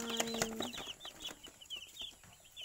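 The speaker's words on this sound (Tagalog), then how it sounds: "Meron tayong 10 sisiw na bago." Newly hatched chicks on a farm, a flurry of high, quick peeping chirps repeating close by, with a few low clucks early on and no speech.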